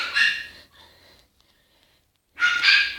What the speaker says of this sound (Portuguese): se quer minha cachorra latindo aqui em casa